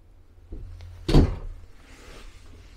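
Bathroom vanity in a 2021 Reflection 312BHTS travel trailer, with a drawer and a mirrored medicine-cabinet door worked: a faint knock, then one sharp wooden thud of a drawer closing, followed by quiet rustling.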